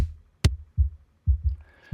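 Deep, booming kick drum hits with a heavy low end boosted around 63 Hz, several thuds in an uneven pattern, plus one sharper higher click.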